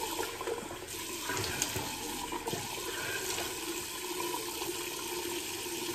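Tap water runs in a steady, full rush into a sink while someone gets ready for a wet shave, a constant close hiss with no break and no voices.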